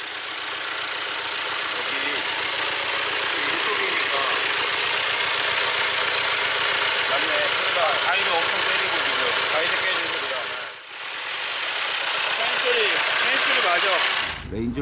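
A Land Rover Range Rover Evoque 2.0 diesel engine, with low oil level and a suspect timing chain, idles with a steady clattering rumble heard from outside, briefly dipping once near the end, under occasional talk.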